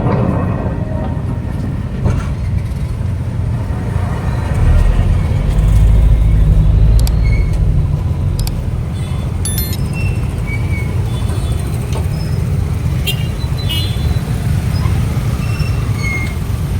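A RoRo junkar ferry carrying vehicles and passengers eases toward the jetty on the Vypin–Fort Kochi crossing, its engine a deep continuous drone that swells briefly midway, with small clanks and knocks over the top.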